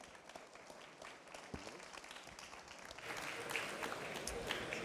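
Conference audience applauds a pitch finalist with a soft, distant patter of claps that swells louder near the end.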